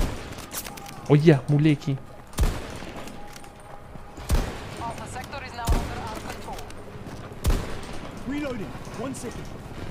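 Sniper rifle shots in Battlefield 2042, several sharp loud cracks spaced a second or two apart, with someone talking excitedly between them.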